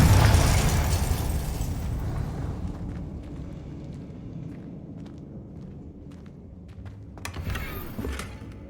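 A Confringo blasting spell from the Hogwarts Legacy video game bursts loudly at the start, a heavy explosive boom that decays into a long rumbling tail, followed by scattered crackles and a second, smaller swell near the end.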